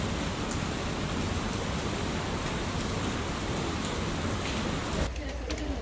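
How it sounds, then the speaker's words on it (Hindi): Rain falls steadily in an outdoor rural setting, producing a dense, even hiss of drops that stays loud and close throughout before it abruptly thins out near the end. "यहाँ देखो बारिश आ ही गई है, बोलते बोलते ही आ गई बारिश"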